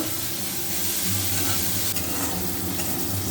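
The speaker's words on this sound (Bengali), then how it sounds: "এই যে উচ্ছেটা ভাজা হয়ে গেছে এখন নামিয়ে নেব" Bitter gourd frying in hot oil with salt and turmeric, a steady close sizzle with stirring clatter running continuously without any talk.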